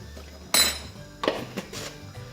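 A spoon clinks against a bowl while sugar goes in for soup-style tteokbokki, with one sharp metallic strike followed by a few lighter taps and scrapes, close and fairly loud.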